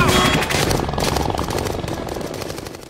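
Gunfire in the film Avatar comes as rapid bursts of shots over a loud mechanical roar, likely aircraft engines, holding steady and then fading slightly toward the end.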